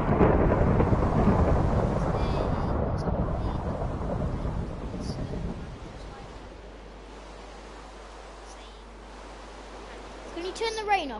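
Steady hiss of heavy rain with low rolling thunder in a video game, loud at first and then easing off to a quieter patter.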